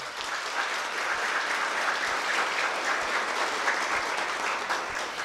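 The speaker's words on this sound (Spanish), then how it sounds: "Vamos a repetir el aplauso." Loud, continuous audience applause at a conference celebrating a 50th anniversary, a dense wash of clapping with a few soft low thumps mixed in.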